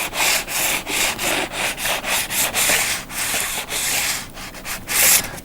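Close-up wet sanding on the edge of a DIY guitar kit body, a quick rhythmic series of about a dozen back-and-forth rubbing strokes, loud and steady with no talking.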